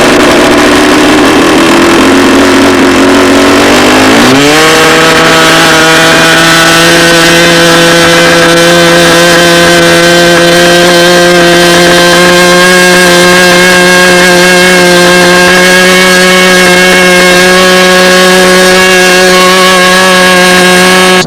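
A small engine runs loud and close throughout a fuel test. Its pitch climbs sharply after about four seconds, then holds a steady, buzzing drone rich in harmonics.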